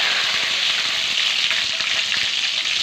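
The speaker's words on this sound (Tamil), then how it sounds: "கடுகு பொரிஞ்சிச்சு, கடுகு போட்டு" Mustard seeds crackle and splutter in hot oil for a tamarind rice tempering, a steady loud broadband sizzle with dense tiny pops throughout and no voices.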